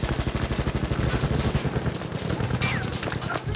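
Enemy machine gun fire in Battlefield 1: a rapid, regular stream of loud gunshots rattling for several seconds, then trailing off into scattered battlefield noise.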